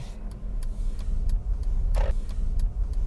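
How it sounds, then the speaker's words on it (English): A car pulling away from a stop during a driving lesson, with a steady low engine rumble throughout, faint regular ticks like an indicator, and a brief whoosh midway; no talking. "Prepare the car to go, observe, 1, 2, 3, signal, handbrake, and move."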